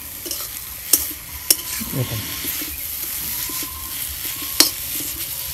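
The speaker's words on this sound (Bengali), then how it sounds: "পিপুলের পাতাটা প্রথমে অল্প অল্প করে ভাজতেছে" Pipul leaves stirring and sizzling as they fry a little at a time in a pan, with steady frying hiss broken by several sharp scrapes and clicks of the utensil against the pan.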